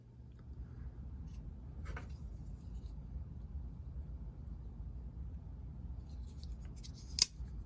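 Small cutters snip the rear axle of a miniature Starling ornament model, with a quiet crisp snip early on and a sharper, louder cut near the end over a low background hum.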